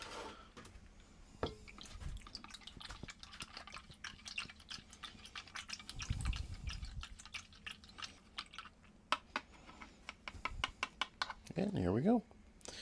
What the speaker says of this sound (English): Alright, I'm going to give this a little stir.